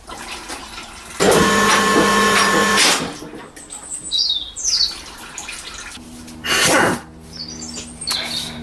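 An air impact gun rattles a bolt loose on a 2004 Peugeot 307SW 2.0 petrol, one long close burst of about a second and a half, followed by a shorter burst later amid faint clinks and workshop noise.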